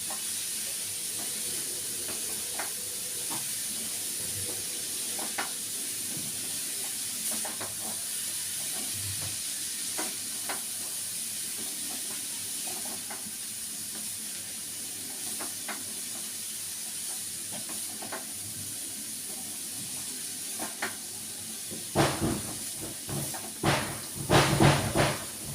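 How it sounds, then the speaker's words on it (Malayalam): Nutmeg sautéing in a hot pan gives a steady, close sizzling hiss throughout, with louder scraping and stirring knocks near the end and no voices. "ജാതിക്കൊക്കെ ഒരു കുറച്ച് വേവുള്ളതാണ്, അതുകൊണ്ട് ഇത്തിരി നേരം നമുക്ക് വഴറ്റി കൊടുക്കണം."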